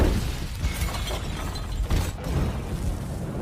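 A loud, dense film explosion burst of blasting and crashing debris, with sharp cracks around the one- and two-second marks, staying roaring and rumbly throughout.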